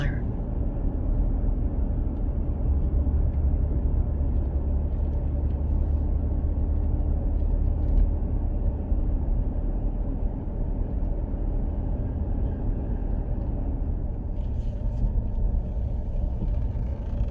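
Car interior while driving Iron Mountain Road in the Black Hills of South Dakota, with a steady low engine and road rumble that stays constant and fairly loud throughout.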